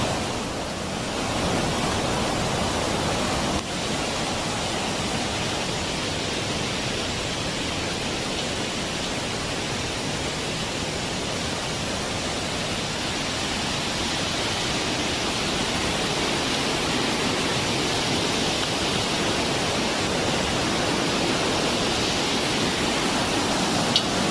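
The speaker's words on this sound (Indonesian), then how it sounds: "Itulah air terjun Mahua" Rushing water from the Mahua waterfall in Tambunan gives a steady, loud, unbroken roar throughout, with no voices over it.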